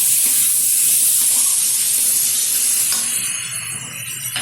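Potatoes and onion with turmeric stirred in a hot pan give off a steady, loud hiss and sizzle, with a slight easing toward the end.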